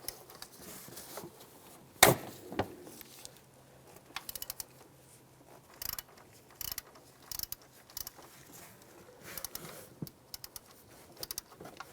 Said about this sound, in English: Take that bolt out. Use a 15mm socket.